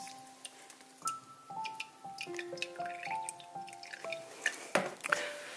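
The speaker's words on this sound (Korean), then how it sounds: "들리시죠? 이렇게 간수가 금방 빠져요." Bittern for homemade tofu drips through a strainer. A quick, irregular run of bright plinking drops falls close by, in a quiet setting with no talk.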